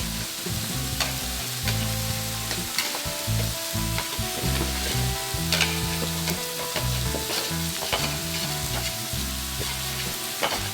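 Browned food sizzling steadily in a hot pan of sauce that has been reducing for about ten minutes, with a constant close crackle and frequent scraping stirs of a utensil against the pan.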